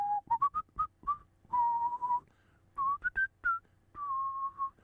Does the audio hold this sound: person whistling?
yes